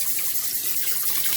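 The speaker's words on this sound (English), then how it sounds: "I'm going to go ahead and rinse all this off." Tap water running steadily into a sink while nixtamalized corn is rinsed, a loud close continuous splashing gush with no talk.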